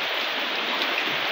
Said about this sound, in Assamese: বৰষুণটো নেৰে পানীটো বাঢ়ি আছে